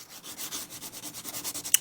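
An acrylic nail is worked back and forth with a 180 grit nail file, giving steady close rasping strokes about seven to eight times a second, with a faint tap at the end and no talking.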